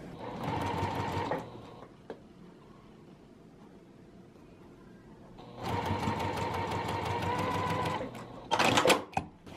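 A sewing machine stitches a small vinyl notions pouch in two long, steady runs with a quiet pause between, then finishes with a brief final burst, close and fairly loud.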